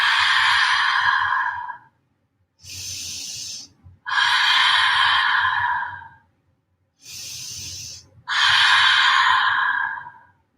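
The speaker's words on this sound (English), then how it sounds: "3 rounds open mouth exhales" Three rounds of long, audible open-mouth exhales during a vinyasa yoga class, each a breathy, sighing rush lasting about two seconds, separated by shorter, softer inhales; close and fairly loud, with no talking.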